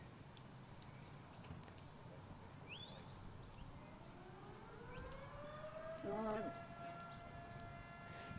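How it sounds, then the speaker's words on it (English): A distant siren rises and holds a long wavering tone at 8 o'clock across an outdoor stockdog cattle field, faint in open air, with scattered ticks and a short bird call. "You can hear the siren in the background."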